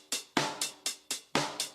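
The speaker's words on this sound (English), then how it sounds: "introduce the kick from the intro again, take away the synth, and then also introduce the percussion from the bridge again" Electronic percussion hits with a punchy kick repeat in a steady rhythm through a sparse dance-track break, dry and unflanged, with no synth underneath.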